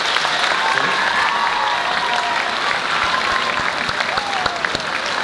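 Steady audience applause in a school auditorium after an orchestra concert, a continuous wash of many hands clapping at an even level, with faint voices and a few whistles under it.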